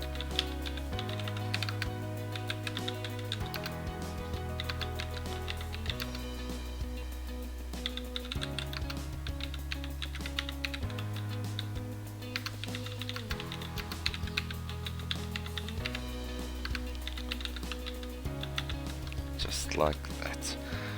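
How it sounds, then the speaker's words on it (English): Keys are typed on a computer keyboard while subtitle text is entered into a presentation, a steady run of light clicks under continuous instructional narration with background music. "And we type in the subtitle."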